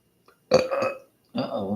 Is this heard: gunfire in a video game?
no